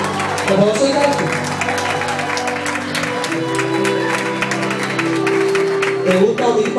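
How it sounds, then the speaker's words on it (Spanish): An audience applauds at a live bohemian music night at the Hilton, with steady, dense clapping running throughout over ongoing music. "Aplausos, aplausos. Aplausos y gracias."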